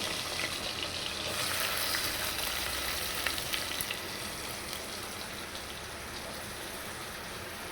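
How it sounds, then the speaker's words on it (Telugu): Onions fry in hot oil in a pan for a prawn and brinjal curry, a steady close hiss and crackle of sizzling running throughout with no voices. "ఆయిల్ హీట్ అయిపోయింది కదా, ఇప్పుడు దీంట్లోకి ఆనియన్ యాడ్ చేసేసుకున్నాను"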